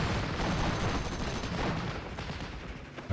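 Battle din from the WWII strategy game Steel Division: Normandy 44, set at Pointe du Hoc, with dense, continuous gunfire and rumbling bursts at moderate level and no voices.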